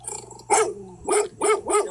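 A puppy barks in a series of four sharp, close yips at an even pace, with a low growl and faint background hum before the first bark.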